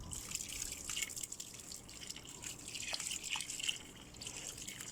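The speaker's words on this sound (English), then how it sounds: "add a bunch of water" Water is poured into dirt in a bucket to make clay, giving faint dripping and trickling with scattered small splashes over a soft background hiss, quiet and close, with no talking.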